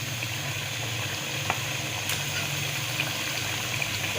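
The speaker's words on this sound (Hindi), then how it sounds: "इसको 4 से 5 मिनट हम अच्छी तरह भून लेंगे।" Mutton with spice masala frying in a pot for nihari, a soft continuous sizzle with faint bubbling and occasional small pops, steady and low-level with no talk.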